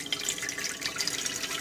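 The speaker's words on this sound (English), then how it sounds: "I get me a pot, put some water in there." Tap water running into a cooking pot for blanching beans, a steady splashing gush close by, continuous and moderately quiet, with no talking over it.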